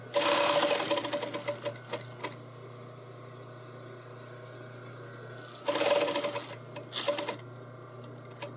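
A sewing machine stitches fabric for an outfit in quick bursts, a fast rattling run at the start, a pause with a steady low hum, then two shorter bursts; close and fairly quiet, with no talking.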